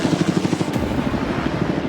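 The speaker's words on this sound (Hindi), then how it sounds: "ये हेलीकॉप्टर हमारे बॉयज को ऊपर हवा में ले जाएगा" A helicopter flying over the sea, a steady loud rotor thumping in a fast even rhythm under constant engine noise, close and continuous.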